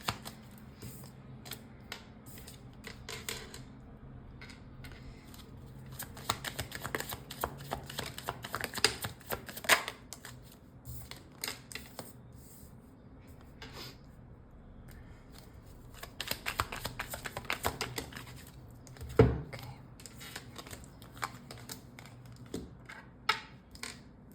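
Soft, quiet shuffling of tarot cards in irregular bursts, with riffling clusters and occasional taps against a low background hum.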